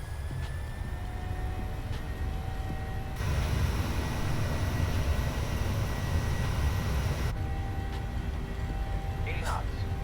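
A simulated Boeing 737 starts its takeoff roll from Vágar in Microsoft Flight Simulator, its steady broadband engine roar stepping up louder partway through, with faint voices at a low level.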